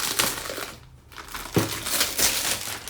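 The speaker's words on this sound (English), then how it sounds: "Let's peel this cover" Plastic protective film peels off a glossy desktop speaker with crinkling, crackling rips in a few bursts, separated by a brief quiet pause, close and fairly soft.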